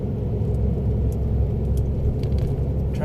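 Car driving in slow traffic on Austria's A12 motorway toward Brennero, a steady interior engine and road rumble with a constant whirring drone, no talk.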